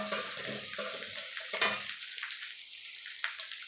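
Mutton liver sautéing with onions in a pan for a liver pepper fry, with a spatula stirring and scraping in short bursts early on, then a softer steady sizzle, close and alone.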